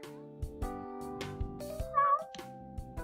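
A cat meows in a visual novel game, several short meows sounding over soft background music with a chime-like accent, clear and close, with no speech.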